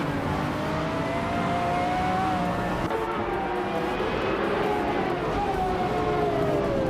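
Hypercars, including a 2015 Ferrari FXX K on pole, launch at a race start at Dijon-Prenois in a racing game: steady, droning engine whine with rising revs, faint and continuous, carried by several cars together.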